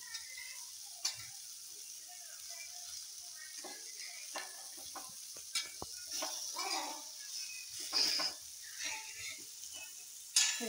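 Fish frying in oil in a pan, with a faint steady sizzle under scattered clinks and scrapes of a spatula and a few soft bursts of spattering, quiet and close.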